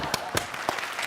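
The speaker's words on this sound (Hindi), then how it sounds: "ये कोई कॉमेडी सर्कस का स्टेज नहीं है जो आप खड़े होकर तालियां बजाने लग गए" An audience on the Comedy Circus stage breaks into clapping, with a few sharp separate claps standing out over a noisy room, briefly and at moderate loudness.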